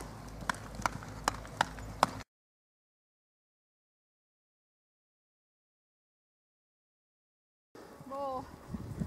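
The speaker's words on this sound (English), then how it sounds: "keep the canter and keep the outside flexion and keep the horse going forward." Horse hooves beat at a canter during a riding lesson, a short run of evenly spaced, fairly close thuds that stops abruptly and gives way to silence before faint sound returns.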